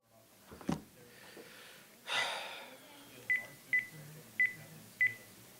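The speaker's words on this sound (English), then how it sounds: "Call Mr. Alvarez" Four short, evenly spaced telephone dial tones beep after some faint breathing and a brief rustle, quiet and close.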